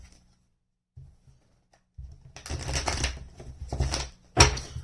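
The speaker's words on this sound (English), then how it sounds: "One more shuffle." Tarot cards being shuffled by hand, heard as several bursts of crisp riffling and card slaps after a quiet start, close to the microphone and with no talk over them.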